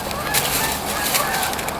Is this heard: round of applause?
no